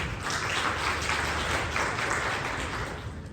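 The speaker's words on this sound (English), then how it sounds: "Please give them also a round of applause." Audience applause at a Year 6 graduation ceremony at a school hall, steady broadband clapping from many people that holds evenly for a few seconds before easing slightly at the end.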